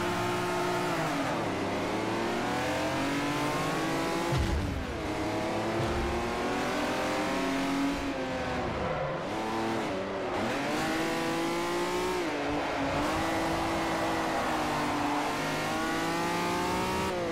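Race car engine in the Forza Motorsport 4 video game, loud and constant, revving up and down through gear shifts with rising and falling pitch and occasional tire squeal from drifting, with no talk.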